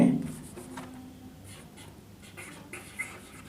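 Chalk or marker scratches as a teacher writes geometry on a classroom board, soft and intermittent strokes at moderate distance with a low room murmur.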